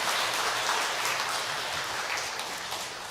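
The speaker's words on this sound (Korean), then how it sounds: "우리 박수 한번 하겠습니다." Church congregation at a Sunday worship service applauding the choir, a dense, even patter of many hands clapping that sounds almost like rain, steady and moderately loud throughout with no voices over it.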